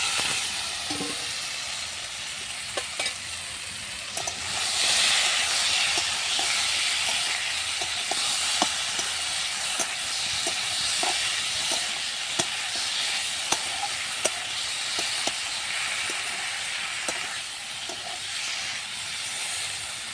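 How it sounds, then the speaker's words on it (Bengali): Flat beans and potatoes hit a pan of already-fried chilli and onion, and a loud, steady sizzle fills the whole stretch. The sizzle swells after the vegetables go in, broken by sharp clicks of stirring. "লঙ্কাটা পেঁয়াজটা ভাজা হয়ে গেছে, এবার দেবো সিম আলুগুলো দিয়ে দেবো"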